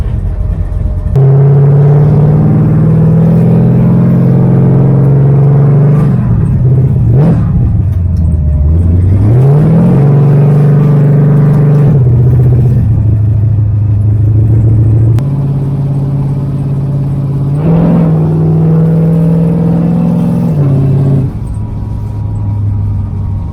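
A Dodge Dart engine runs steadily at close range with a deep, loud drone, then revs up and down several times as the car pulls along the road.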